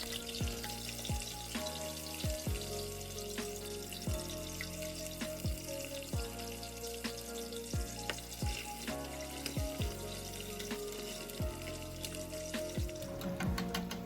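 Plantain slices frying in hot oil for a Dominican home-cooked dish, a steady close sizzle and crackle running throughout with occasional sharper pops and clinks of utensils, no talking.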